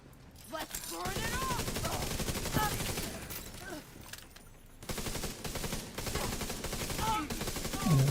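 Rapid turret gunfire in a video game, with dense, steady bursts of shots running through most of the stretch, broken by a short gap near the middle, and someone speaking over the firing.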